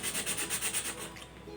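Sandpaper rubbed back and forth over a small cut part for a homemade motor water pump, giving steady rhythmic scraping strokes up close, about six even passes that then fade to a lighter, softer rub.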